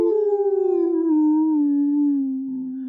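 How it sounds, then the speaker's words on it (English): A wolf lets out one long, drawn-out howl of pain that slowly sinks in pitch, loud and close, with no other sound around it. "Wolf howled with pain."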